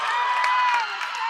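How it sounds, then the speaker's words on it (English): Crowd at a WFTDA women's flat track roller derby game cheering loudly through the whole clip, a dense continuous roar with a sustained tonal whistle or horn running through it. "And the crowd goes wild."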